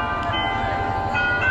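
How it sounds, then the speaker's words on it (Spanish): Bells ring out at a Christmas tree lighting in Yuriria, a sustained, layered metallic tone that hangs steadily and fairly loud over a busy outdoor background with no clear strokes or pauses. "ahí van ya las campanas"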